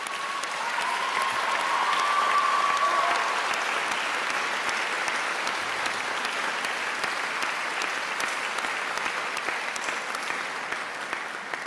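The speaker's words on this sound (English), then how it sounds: "I feel like the applause could have gone on for an eternity" A large concert-hall audience applauds steadily after the final concerto round of the 2025 Van Cliburn International Piano Competition, honouring the medalists. The clapping is dense and continuous, with no voices over it.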